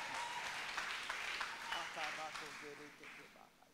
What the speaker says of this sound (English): Clap your hands to Jesus.